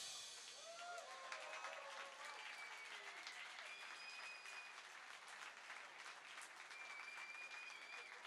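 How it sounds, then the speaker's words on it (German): Sustained audience applause at a restaurant and bar awards night, dense steady clapping filling the whole stretch with a few faint whistles and cheers on top. "Ja, vielen Dank für den Applaus."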